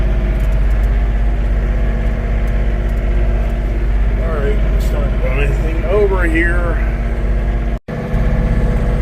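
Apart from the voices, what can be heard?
John Deere tractor engine working with front loader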